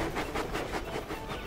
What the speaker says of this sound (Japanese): 機関車たちはみんなワクワクしながら陽気な音を立てて線路を走っていた